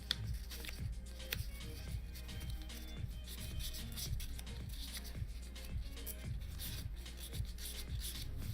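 Sandpaper rubbing steadily back and forth over a badly scuffed 3D printed part, a close, continuous rasping with regular strokes for the whole stretch and no talking.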